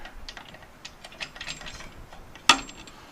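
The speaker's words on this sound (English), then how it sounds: "Let me slide it through to kind of give you the visual effect." A metal drive axle slides through the drive roller of a metal roller, giving a quiet run of small close ratcheting clicks and rattles, then one sharp metallic clack near the end.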